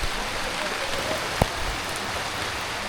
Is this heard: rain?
yes